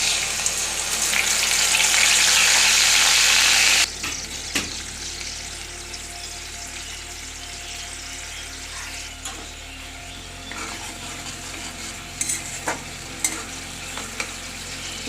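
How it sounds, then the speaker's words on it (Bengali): Onion paste frying in a pan for egg korma, stirred continuously: a loud, dense sizzle for the first few seconds, then settling into a quieter, steady fry broken by scraping stirs and occasional clinks of the spoon. "পেঁয়াজের কাঁচা গন্ধটা যতক্ষণ আছে আমি ততক্ষণ এই পেঁয়াজ বাটাটা নাড়তেই থাকবো"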